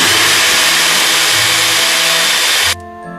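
Electric drill boring progressively larger holes for a bolt at a workbench, a loud steady whine with broadband grinding that runs continuously, then stops abruptly near the end, leaving a faint hum.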